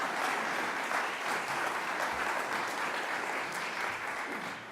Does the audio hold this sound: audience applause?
yes